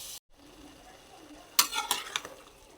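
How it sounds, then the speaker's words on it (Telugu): Chicken pieces frying in hot oil for a chicken curry, a soft sizzle broken by a few sharp spatula scrapes and clinks against the pan near the end, close by with no talking. "చికెన్ బాగా ఫ్రై అవ్వాలండి."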